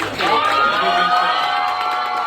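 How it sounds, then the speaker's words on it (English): A short, loud burst of audience cheering and shouting at a comedy show. "I want you guys to make some noise for Nikki and Chris Collapse real quick."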